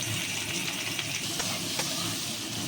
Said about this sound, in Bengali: এই দেখুন চিংড়ি মাছগুলো এবার আমি ভেজে নেবো